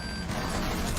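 Rainbow Six Siege proximity alarm gadget in the video game, a high repeated electronic beep over a dense, loud wash of game noise, brief and steady.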